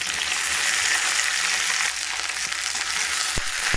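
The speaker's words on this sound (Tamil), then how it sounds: "கொஞ்சமாக எண்ணெய் சேர்த்து நம்ம வெண்டைக்காய் வதக்கி எடுத்துக்கலாம்." Okra sautéing in a little oil on a hot tawa, a steady close hiss of frying with a couple of faint clinks near the end and no talking.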